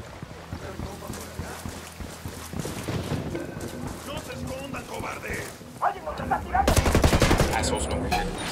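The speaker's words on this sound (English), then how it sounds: "I'm opening fire." Gunfire in the tactical shooter Ghost Recon Wildlands, a mix of sharp shots and rattling bursts that grow denser and louder toward the end, heard alongside game ambience, wind and voices talking.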